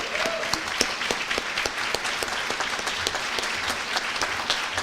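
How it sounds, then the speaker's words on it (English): An audience applauds steadily at an award luncheon, with dense, even clapping that holds through the whole stretch at a moderate distance. "Let's give her a round of applause."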